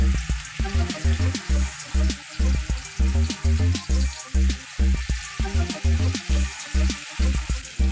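Prawns sizzle and crackle in hot oil, a busy rhythmic frying sound with bubbling pulses, close up and steady throughout.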